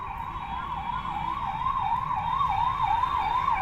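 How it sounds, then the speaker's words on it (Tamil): An ambulance siren wails in a steady, rising-and-falling pattern outside a government hospital in Odisha, fairly faint and constant throughout, with low background rumble and no talk over it. "ஆம்புலன்ஸ் வருது."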